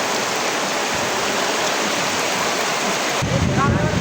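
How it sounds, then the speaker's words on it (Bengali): Heavy rain pours down in a dense, steady hiss that fills the whole stretch and swells louder near the end. "এই বছরের ভিতরে এরকম বৃষ্টি হয় না"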